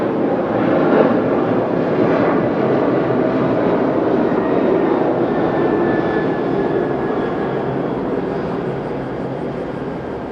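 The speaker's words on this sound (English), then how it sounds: "we've got a Skymark takeoff" A Skymark airliner takes off at Okinawa airport, a steady, loud jet roar that fills the whole stretch without easing, heard alone with no talking.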